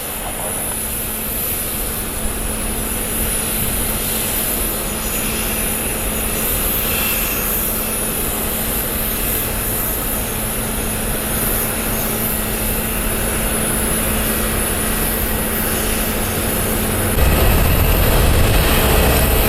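A Cessna Citation jet rolls out along the runway in a steady, continuous broadband roar heard from a distance, with a deeper rumble growing louder near the end.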